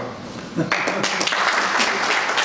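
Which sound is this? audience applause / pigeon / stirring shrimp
audience applause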